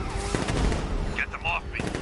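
Rapid bursts of gunfire in a game battle, loud and sharp, mixed with a voice and scattered electronic effects.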